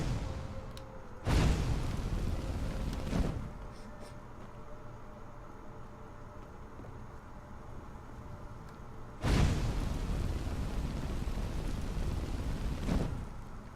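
Fire spreading across a Skyrim location with the Fire and Ice Overhaul mod: two loud bursts of ignition, each a broad whooshing roar lasting a couple of seconds, with a steady low crackling burn continuing between and after them.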